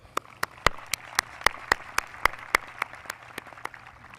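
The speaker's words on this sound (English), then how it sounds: "Let's give them all a round of applause." Sparse, evenly spaced claps ring out one after another at a high school commencement ceremony, a small scattered round of applause with a faint hum underneath.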